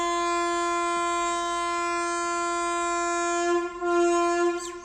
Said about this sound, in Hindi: ये उसी रेलवे गेस्ट हाउस के बगल में जो ट्रेन जाती है वहीं की आवाज़ है।